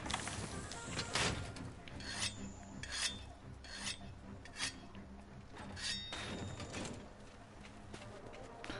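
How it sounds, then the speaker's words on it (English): Weapon sharpening in Monster Hunter World: repeated raspy whetstone strokes scrape along a blade in a steady rhythm, close and fairly loud, over low game background ambience. "I think it's time to sharpen up."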